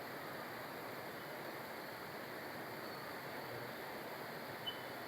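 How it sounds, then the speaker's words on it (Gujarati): Heavy rain pours down in a steady, dense hiss that stays even and unbroken, with no voices over it. "ધોધમાર વરસાદ પડે છે."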